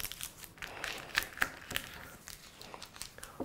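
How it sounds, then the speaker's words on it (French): Close, quiet crinkling of stiff parchment paper folded accordion style, with a few sharper crackles among softer rustles as it is creased back and forth. "je vais la plier un petit peu en accordéon comme ça"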